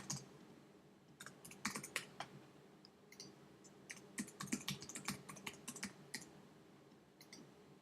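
Username and password typed on a computer keyboard at a login screen: irregular bursts of light, close key clicks with short pauses between runs of keystrokes.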